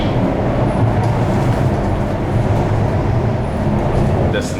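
Singapore MRT metro train running toward Harbour Front, a loud continuous rumble and rolling roar heard from inside the carriage, steady throughout with faint high squeals.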